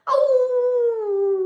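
A dog howls on request, one long sustained howl that begins loudly and slowly falls in pitch over about a second and a half, close by and alone.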